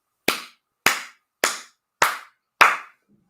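Five unison claps ring out from a group at a scholars' tournament, crisp evenly timed slaps each fading fast, the last a touch fuller, nobody speaking.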